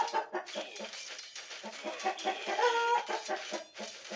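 Several chickens cluck repeatedly in short, close bursts, with a busy overlapping rhythm and a higher squawk midway.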